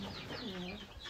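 Hens and roosters in a farm flock clucking close by in a short burst, with someone talking over the birds.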